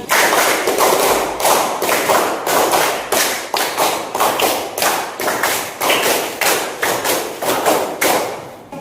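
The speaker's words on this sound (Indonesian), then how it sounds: "Beri mereka tepuk 5 kali" A classroom audience claps together in quick bursts, sharp, close rhythmic claps repeating steadily for almost nine seconds with no talk over them.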